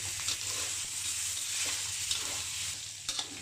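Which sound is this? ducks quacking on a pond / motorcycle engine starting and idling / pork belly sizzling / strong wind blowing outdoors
pork belly sizzling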